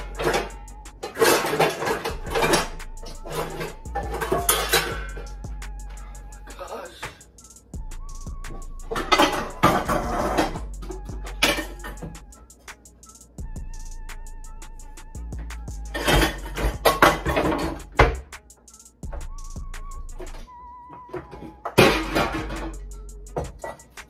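Someone rummaging through a kitchen stack of pots and pans to pull out a pot, with bursts of clanking metal and knocking cookware separated by quieter pauses, close and cluttered, no speech.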